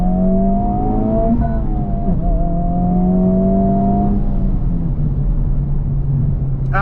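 A 2024 Honda Civic Type R accelerates hard in second gear, its engine a loud droning growl that climbs steadily in pitch from inside the cabin, easing briefly before pulling on over a constant road rumble.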